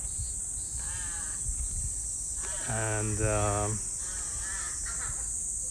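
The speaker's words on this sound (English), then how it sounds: "Crow." A crow caws in a park in Japan on a morning, a few harsh calls with one louder, nearer burst in the middle, over steady insect hum, with a brief spoken word.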